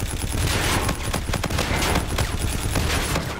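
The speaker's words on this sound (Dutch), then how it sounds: "dit wapen schiet zo lekker" Rapid automatic gunfire from a weapon in the video game Call of Duty: Infinite Warfare, a dense continuous burst of close, loud shots with no pauses.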